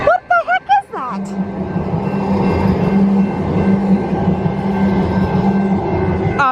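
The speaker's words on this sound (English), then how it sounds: "so it's some type of a metro line, I guess" A voice speaks briefly, then a light rail train rumbles past with a steady rolling hum and a faint high whine, loud and close.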